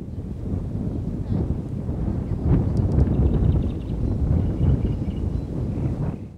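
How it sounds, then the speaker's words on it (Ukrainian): Wind blows over the river at a regional junior kayak and canoe championship in Khmelnytskyi, buffeting the microphone with a steady rumbling roar and faint distant tones drifting through. "Ще зараз вітер піднімається"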